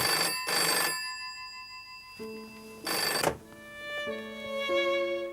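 A telephone rings for an election-night concession call in New Zealand, two loud bursts of bell ringing separated by pauses, followed by tonal ringing patterns, with no voices.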